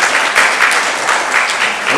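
An audience applauds steadily for about two seconds, a dense, continuous wash of many hands clapping at close range with no voices on top.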